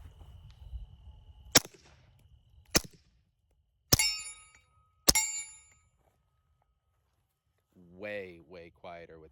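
A suppressed Beretta M9A4 pistol fires 150 grain subsonic rounds in four sharp cracks spaced about a second apart, the last two with a ringing hit on steel, followed by a pause and then talk.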